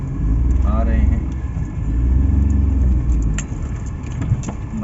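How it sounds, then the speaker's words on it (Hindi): A Suzuki Mehran car creeps slowly over a broken, bumpy road with a steady close engine rumble, punctuated by jolts and rattles from the body as it bounces. "बाकी गाड़ी स्लो चला रहे हैं तो वो फिर भी जो है जंप हमें लग रहे हैं।"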